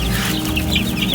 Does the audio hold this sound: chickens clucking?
yes